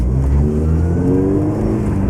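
A car engine over-revving, a loud, sustained, steady roar held close up with no talking over it.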